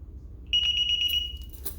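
A DSC alarm panel gives one clear, steady high-pitched beep lasting almost a second when armed or disarmed, heard close over a quiet room hum.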